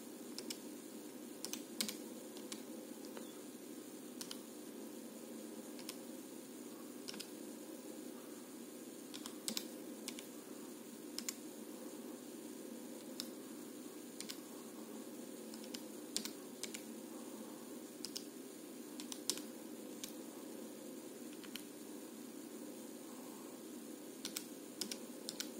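Buttons pressed on a calculator keypad during a maths exam question, a steady run of quick, light clicks at close range with short pauses in between, over a faint room hum.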